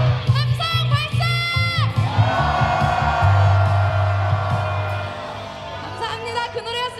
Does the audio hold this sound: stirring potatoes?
no